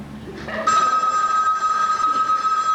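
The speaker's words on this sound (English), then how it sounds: "There isn't a 10-minute break in the whole day when the phone isn't ringing." A telephone bell rings with a sustained bright trill, starting abruptly after a brief low murmur and continuing loud and close to the end, heard within a stage play performance.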